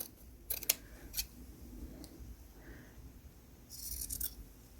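Scissors trimming the edges of a handmade punch-needle tufted rug, several crisp snips in quick clusters, close and fairly quiet, with soft handling noise between cuts.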